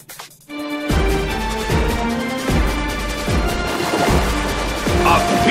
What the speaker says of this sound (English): A smashing blow.